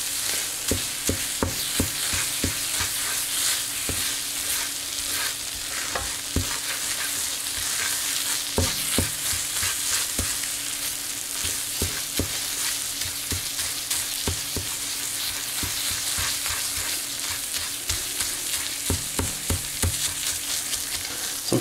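R candy rocket fuel cooks in a pan under constant stirring, a loud close sizzle with a steady run of clicking, scraping strokes as the utensil works the mixture. No one speaks.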